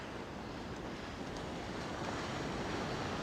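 Ocean surf rolls onto a beach during a fishing outing, a steady, unbroken wash of breaking waves with wind buffeting the microphone throughout.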